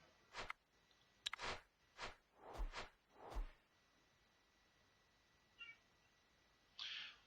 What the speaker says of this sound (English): My cat again wants something.